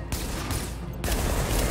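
Dense rapid gunfire from a third-person shooter game, The Division on PS4, at the WarrenGate Power Plant, a continuous loud fusillade of shots filling the whole moment.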